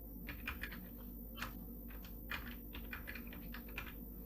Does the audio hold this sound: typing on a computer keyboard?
yes